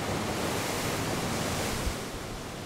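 Rough ocean waves crash and surge below a seaside cliff at Uisangdae, a steady loud roar of surf with wind noise filling the whole stretch, no voices.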